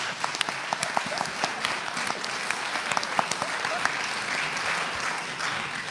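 An audience at a tertulia gathering applauds a singer with sustained, dense clapping from a crowd, steady and fairly full, with a few sharper individual claps standing out.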